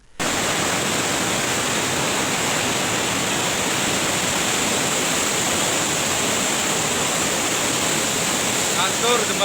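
Floodwater from a two-hour downpour rushing down a flooded residential street in Bandar Lampung, a loud, steady broadband roar of churning water that continues without a break, with no voices over it.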